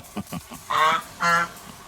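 A goose gives two loud, nasal honks close by, each about a quarter second long, with a short gap between them. They follow faint low clucking sounds, and no one speaks.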